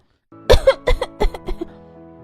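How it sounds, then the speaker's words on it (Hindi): A child coughs in a quick series of four or five harsh bursts, close by, with a faint steady hum underneath and no talking. "देख कितनी खांसी हो रखी है इसको"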